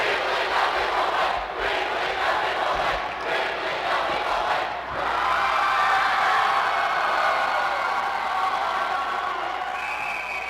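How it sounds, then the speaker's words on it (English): A packed arena crowd at a high school hockey game in Maine roars and cheers continuously, a dense wall of voices and whoops filling the space throughout. "Listen to that crowd."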